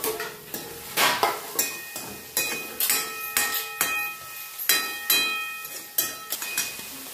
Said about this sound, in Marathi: राहिलेलं सगळा कांदा टाकून घ्यायचंय.